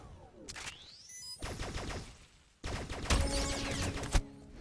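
Gunfire from an ion pistol in the Roblox shooter Aimblox, with rapid bursts of sci-fi shots and sweeping laser-like tones, dense and loud in two main volleys, with no voices.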